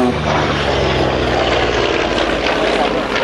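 A Grumman Hellcat fighter's propeller engine drones loud and close, a steady throbbing roar that holds at full strength throughout.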